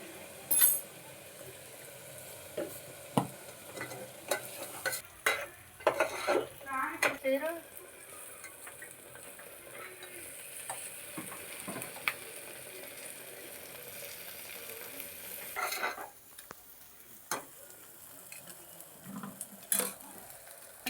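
Washed rice is stirred in a pan for paneer pulao, with scattered scrapes and light metallic clinks of a spoon against the pan over a low background hiss, and muffled voices now and then.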